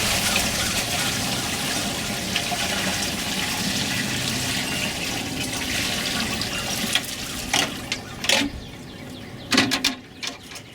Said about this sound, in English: And I pour the larvae out with the water in the garden.